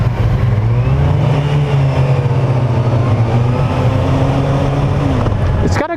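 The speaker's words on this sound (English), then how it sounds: "It's a smooth engine. Very smooth engine." A 2019 Kawasaki ZX6R sport motorcycle engine runs close by with a loud, smooth, steady drone and an even pitch that barely changes.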